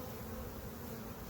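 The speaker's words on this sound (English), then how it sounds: "there's so many bees, and I made the mistake of not bringing smoke with me" Honey bees swarming around an open nuc box hive in a backyard apiary, a dense, steady low buzz of many agitated bees close by, continuous and without talk.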